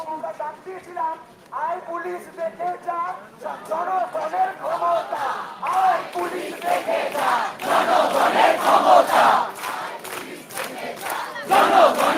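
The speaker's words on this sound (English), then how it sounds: "there you see the cheer goes with the clap as the announcement happens" A crowd of protesting doctors marching in the street raises chanted shouts and cheers that swell into rhythmic clapping, loud and close, with voices layered throughout.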